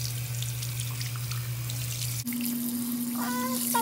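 Warm tap water runs steadily into a sink while makeup brushes are rinsed, with a brief break where the flow shifts to a higher, steadier stream; the pouring is close and continuous, with no talk.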